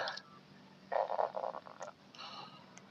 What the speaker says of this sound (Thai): กบร้องเลยวะเนี่ย